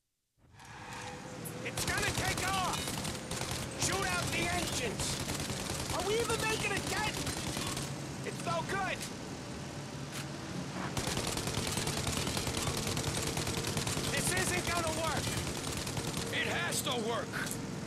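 Gunfire in the video game Mafia arrives as dense, loud bursts of rapid shots and machine-gun fusillades almost continuously, with a short pause midway, while someone talks over the shooting.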